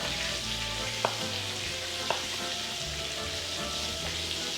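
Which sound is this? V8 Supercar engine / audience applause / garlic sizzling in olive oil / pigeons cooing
garlic sizzling in olive oil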